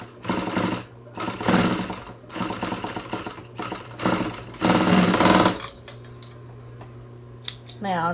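A sewing machine stitches fabric masks in a row of short, loud bursts of rapid mechanical chatter, each lasting under a second, followed by a low steady hum and a couple of faint clicks.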